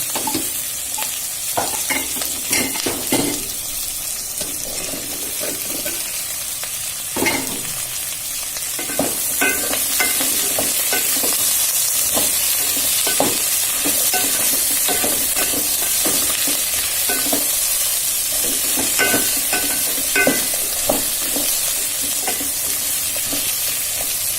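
Onions and potatoes fry and sizzle steadily in a pan, with repeated scraping stir strokes and clinks near and clear; no talking, the hiss growing a little fuller partway through.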